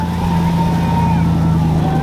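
The Demon Gladiator drives off at a rally launch party, a steady low engine drone with a sustained tone, fairly loud and close, with faint voices around it.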